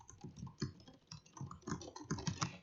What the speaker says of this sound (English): The brown mechanical keys sound just like this.